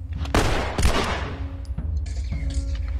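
Gunshots from the video game The Last of Us, two sharp close bangs in quick succession followed by a few lighter shots and clatter, with no one talking over them.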